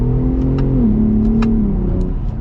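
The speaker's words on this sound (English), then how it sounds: "I love the sound of that trombone exhaust." A 2021 truck engine on 37-inch tires revs through a trombone exhaust, a loud, steady low drone that climbs and settles in pitch with a few faint ticks over it.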